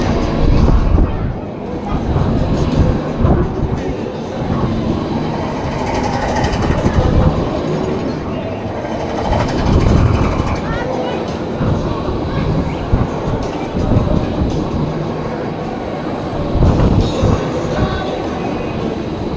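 A Reverse Time spinning flat ride at Great Yarmouth Pleasure Beach speeds up, a loud continuous mechanical rumble and rattle with rhythmic swells, heard close from on board, with voices in the background.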